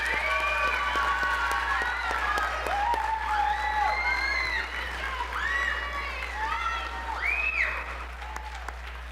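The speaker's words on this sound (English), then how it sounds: "if we could give our first graders a round of applause" Audience applause for first-grade students at a school district board meeting, steady and moderately distant, mixed with children's high voices and chatter from the room.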